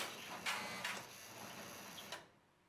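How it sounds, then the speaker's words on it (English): A 1960s cigarette vending machine mechanism shifts when its coin return switch is hit, giving a few close, sharp mechanical clicks and clunks over a steady whirring rattle that stops abruptly after about two seconds. "I did get a load of movement and noise whenever I hit the coin return switch"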